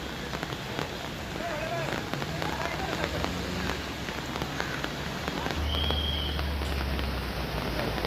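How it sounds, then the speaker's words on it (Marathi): Heavy monsoon rain falling on flooded streets in Bhiwandi, a dense steady hiss of rain on surfaces throughout with a low rumble of passing traffic in the background. "भिवंडीमध्ये तुफानाचा पाऊस बरसतोय"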